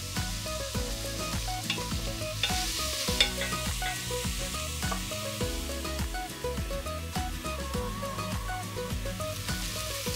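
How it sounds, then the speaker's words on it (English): Chopped carrots tossed into softened onions in a hot pan sizzle and fry steadily while a spoon stirs with soft scraping clicks, close and continuous for the whole stretch. "so I'm gonna add in my chopped carrots"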